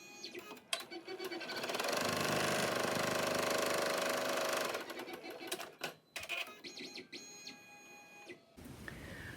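An embroidery machine stitches the placement line for a contour mask in the hoop, a steady fast mechanical whirring that runs for several seconds before stopping, followed by clicks and handling noises.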